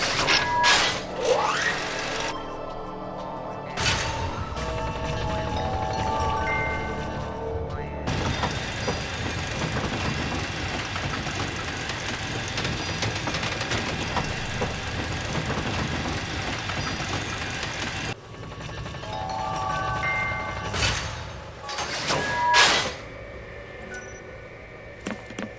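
In Final Fantasy XIII, the central elevator rises toward the top of the tower with a long, steady mechanical hum and rumble. Music and game effects sit around it, and a player talks over the start and end.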